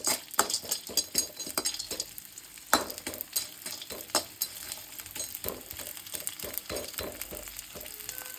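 Moong dal mixture roasts in a pan for laddoos with a close, sizzling crackle. Repeated scraping strokes of a spoon stirring it come at an uneven rhythm.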